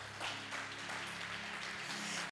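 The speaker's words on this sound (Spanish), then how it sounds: "Dele un aplauso al Señor." A church congregation claps during a sermon, a dense, fairly faint, steady wash of applause with no pauses.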